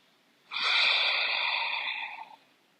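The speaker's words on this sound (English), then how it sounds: "We're going to stay for a few more breaths." One long, steady breath drawn deeply through the nose during a yoga session for headache relief, close and airy, lasting about two seconds and then fading to quiet.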